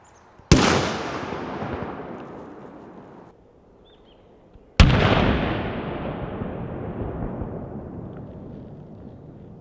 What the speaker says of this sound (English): this is again just to demonstrate what the explosive potential is of these homemade or illegal fireworks